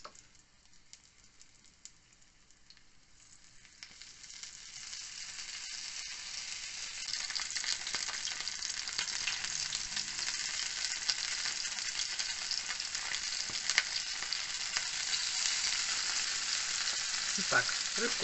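Small pieces of flour-dredged fish fry in a pan, a steady close sizzle that starts softer and swells to a dense, continuous crackle with scattered pops.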